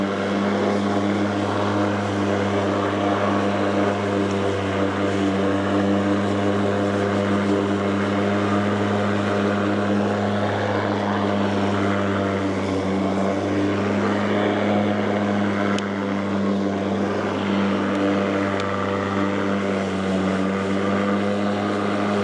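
An Ego commercial battery-powered lawn mower runs at speed, putting out a loud, even droning hum with a strong low whine that holds steady from start to finish.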